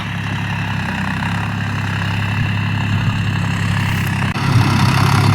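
A Mahindra tractor engine idles steadily with a loud, constant low rumble and throb that runs unbroken throughout, with a brief dip near the end before it continues.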